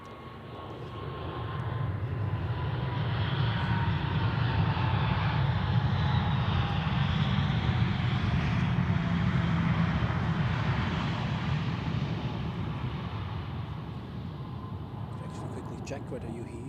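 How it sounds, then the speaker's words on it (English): An Aer Lingus airliner from Dublin lands at Zurich Airport, its engine roar swelling from afar into a broad rumble, then slowly fading, with people talking over it. "And this was the Aer Lingus, yeah, Aer Lingus from Dublin."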